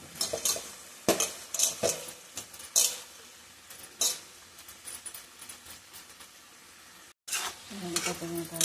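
Brinjal pieces tipped into a hot pan, sizzling steadily with repeated clanks and scrapes of a utensil stirring against the pan, followed by a brief pause before the frying resumes.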